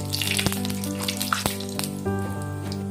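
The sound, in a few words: panch phoron and dried chili frying in oil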